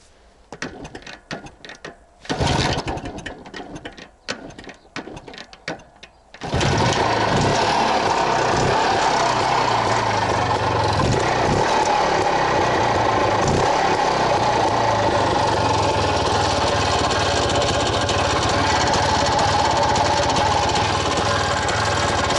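An IZh enduro motorcycle, newly repaired, runs and rides with a loud, steady engine roar. It follows a few seconds of choppy, broken engine and handling noise, and the roar then continues unbroken to the end.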